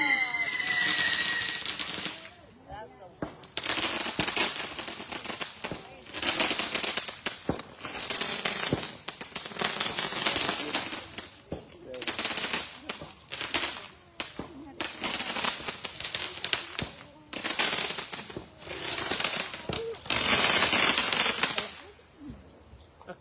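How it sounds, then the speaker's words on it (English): Fireworks at a Buddhist temple's Vesak celebration in Indiana: dense, continuous crackling bursts and sharp bangs for over twenty seconds, with only brief gaps, loud and close, with occasional voices in the background. "More fireworks coming."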